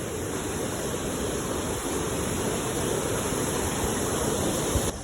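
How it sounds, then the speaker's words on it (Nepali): A swollen, fast river at Sundarijal rushing past, a strong, constant roar of churning water heard up close throughout with no talking. "खतरा बगिरहेछ, पानी चाहिँ ठुलो छ"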